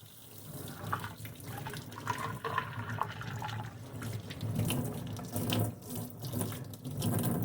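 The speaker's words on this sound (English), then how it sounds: "We're just washing all that soapy water out and any dirt or debris that might be left." Water from a tap runs steadily through a trumpet as it is rinsed of soapy water in a sink, a continuous splashing flow with small gurgling shifts and no talking.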